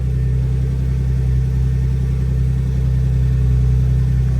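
A turbocharged BMW E36 engine runs at a steady idle right after starting, a loud, close, continuous low rumble with an even pulsing beat and no talk over it.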